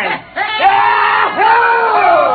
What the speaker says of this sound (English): The Earth laughs and shouts echoing across the empty Martian sands.